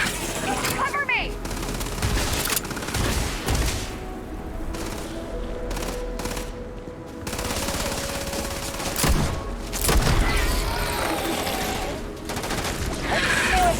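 Rapid gunfire from a firefight in the Starfield video game, bursts of automatic shots and booms crackling near and loud throughout, with brief lulls, while voices talk over the shooting.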